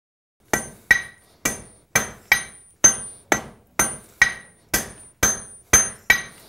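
A blacksmith forges metal at an 18th-century-style fort, hand-hammering with about thirteen sharp ringing strikes in a steady, slightly uneven rhythm, each blow loud and close with a short metallic decay.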